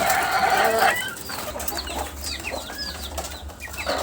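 Poultry hens on a farm in winter peck at feed, with a burst of wing flapping at the start followed by scattered clucks and faint chirps nearby.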